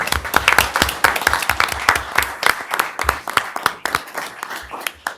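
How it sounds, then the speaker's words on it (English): A crowd applauding at a township board meeting, steady clapping from many hands that carries on for several seconds before thinning out. "Let's give him a round of applause."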